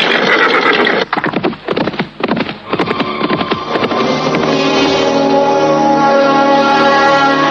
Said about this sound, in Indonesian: Guntur dan Nandoko menghentakkan tali kekang kudanya, maka kuda-kuda itu pun berlari semakin kencang